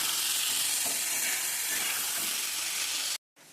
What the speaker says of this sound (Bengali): আর দেবো কাশ্মীরি লঙ্কার গুঁড়ো দিয়ে আমি আরেকবার ভালো করে সমস্তটাকে মিশিয়ে দিই।